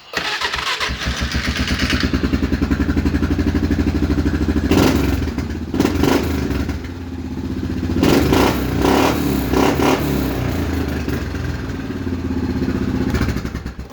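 A Polaris engine fitted with a carburetor from a 425 starts and runs loud and close, with a steady throbbing idle broken by several sharp revs and clattering bursts.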